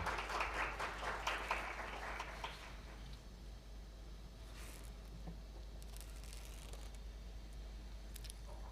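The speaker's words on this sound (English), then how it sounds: "Please welcome him with a big round of applause." An audience at a Korea-US economic forum applauds a keynote speaker, a brief burst of clapping at the start that quickly fades to a quiet room hum.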